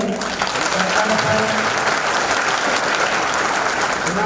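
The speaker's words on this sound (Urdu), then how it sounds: "ہم ان کا جو ہے تالیوں سے استقبال کریں گے" An audience at a stage event gives sustained, dense applause to welcome a guest, loud and steady throughout with a faint murmur of voices beneath the clapping.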